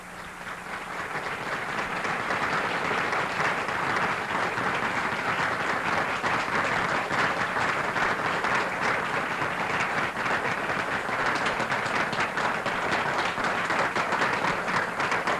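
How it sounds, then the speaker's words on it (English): Sustained applause from a lecture audience fills the hall, many hands clapping densely and evenly at moderate volume, swelling in the first two seconds and then holding steady with no speech over it. "The speaker applauds the audience in gratitude for being applauded by the audience."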